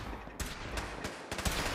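Automated turrets firing in Fallout 4, a rapid series of sharp shots in quick bursts over a steady noisy background.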